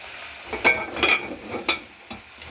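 Biryani ingredients, everything except the potatoes, are stirred in a pot, with a few scraping strokes over a soft sizzle and no talking.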